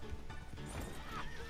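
A horse neighs in Red Dead Online, a short whinny with soft hoof clip-clops, fairly faint with no voices.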